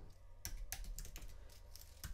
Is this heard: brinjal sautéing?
no